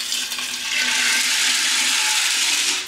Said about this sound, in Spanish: Ahora les voy a estar agregando el agua para que se cuezan en la olla.